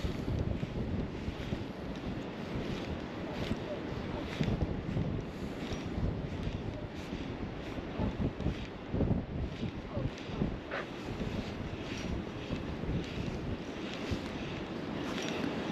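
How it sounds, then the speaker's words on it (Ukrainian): Steady wind roars and buffets the microphone throughout, a continuous gusty rumble with no pauses. "Да й вітер не так шумить, коли в спину вітер"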